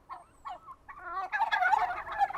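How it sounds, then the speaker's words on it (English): A turkey gobbles nearby, a rapid warbling burst of rising, rattling calls that builds to a loud, dense gobble and stands alone without talk. "Turkey, huh? Like, what are you doing?"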